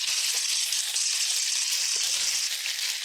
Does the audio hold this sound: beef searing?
yes